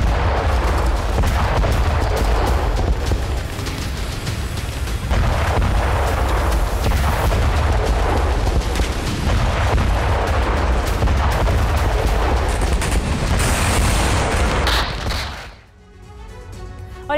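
Loud, continuous barrage of booms and blasts as explosions strike boats in Russia-Ukraine war drone footage, dense and rumbling for about fifteen seconds before cutting off abruptly near the end.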